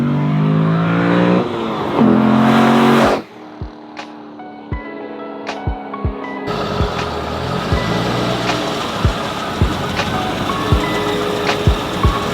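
Chevrolet Corvette Z06 accelerating hard through several gears, engine note rising and dropping with each shift, then settling into a lower steady drone with repeated sharp thumps, close and loud, no talk.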